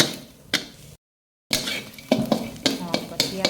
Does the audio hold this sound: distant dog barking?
no